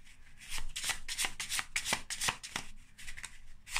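A big stack of tarot cards being shuffled for a reading, heard close up as a quick, rhythmic run of crisp riffling flutters with no voice.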